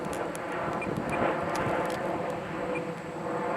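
A Hobbyzone Sport Cub S RC airplane's electric motor and propeller give a steady, continuous whine at full power, with broadband wind noise over it and no talking.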